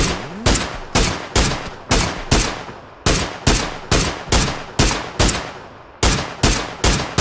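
Rapid, regular bursts of video game gunfire crack in a steady rhythm, each shot sharp and loud with a short decay, continuing without pause.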